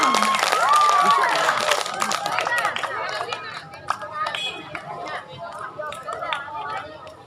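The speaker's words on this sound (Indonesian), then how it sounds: "Tepuk tangan dulu, semangat di kawannya." Audience applause and cheering for a contestant at a school class-meeting recitation contest of the 1945 Constitution preamble, loud at first and thinning out, with a whistle and lively voices and chatter mixed through the crowd noise.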